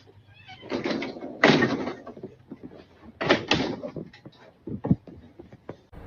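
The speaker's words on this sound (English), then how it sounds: "I can close the door." A door swings shut with a couple of loud bumps and rattles, followed by a fainter knock, all close by with no talking.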